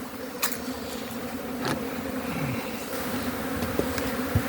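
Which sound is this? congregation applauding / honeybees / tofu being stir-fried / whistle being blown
honeybees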